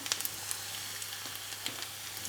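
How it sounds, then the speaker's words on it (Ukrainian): Chopped chicken thigh fillet fries in a pan for a chicken-and-cheese filling, giving a faint, steady sizzle with scattered soft crackles and no voices. "відправляємо туди подрібнене філе стегна"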